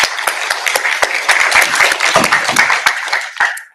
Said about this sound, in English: So should we give a round of applause for Ruth?